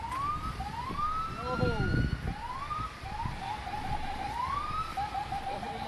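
An ambulance siren wails in rising, repeating sweeps after a car crash in a rainstorm, heard moderately near against rain and traffic noise, with a person briefly speaking.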